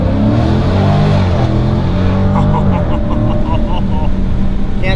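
A Dodge car's engine revs loudly and close, a dense rising roar with throaty harmonics filling the whole stretch, while a voice talks over it.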